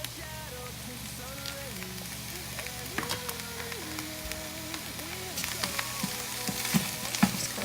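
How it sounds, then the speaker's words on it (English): Ground beef and chopped onion sauté in a pan for a crockpot chili, a soft steady sizzle with scraping and stirring clatter growing busier toward the end, while a voice murmurs in the background. "So you want to saute that onion a little bit"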